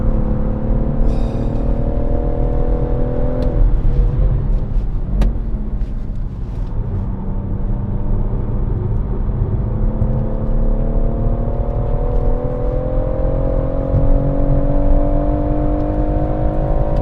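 BMW M140i driving on the Goodwood track, engine droning loud and close from inside, with rising and falling pitch as it accelerates and shifts, a few clicks and knocks along the way.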